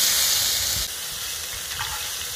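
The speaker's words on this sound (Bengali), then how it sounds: "আলুগুলো ভেজে নেব।" Potatoes fry in hot oil with a loud, bright sizzling hiss that drops slightly partway through, joined by a brief stirring scrape near the end.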